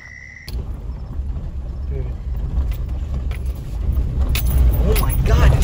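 A truck roars along at speed, its engine and road noise swelling steadily louder and closer, while people talk over it with a rattling jangle in the cab.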